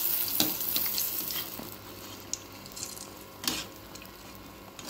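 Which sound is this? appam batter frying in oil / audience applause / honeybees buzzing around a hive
appam batter frying in oil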